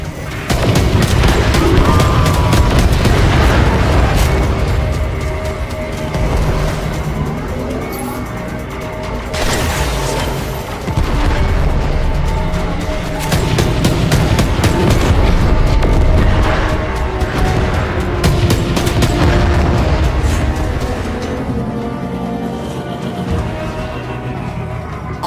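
Ram sleds launching in the Warframe video game, a dense, continuous roar of booms, crashes and blasts layered over a rumbling low drone, loud and sustained throughout without a pause.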